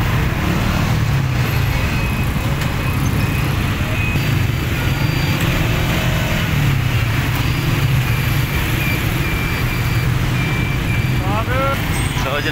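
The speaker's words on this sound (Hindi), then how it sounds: "जनाब आ वेखो किन्नी ट्रैफिक जाम है" Jammed road traffic in Lahore, blocked for a political rally: a constant loud rumble of idling cars, trucks and buses with low engine drone. A distant horn chirps near the end, and voices are present.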